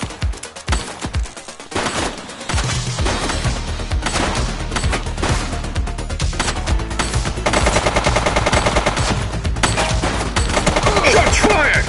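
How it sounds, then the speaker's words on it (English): Rapid automatic gunfire and repeated gunshots from the police video game The Precinct, loud and dense bursts running continuously over a steady game background. "Shots fired!"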